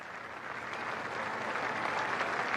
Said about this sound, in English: Listen to the applause for him.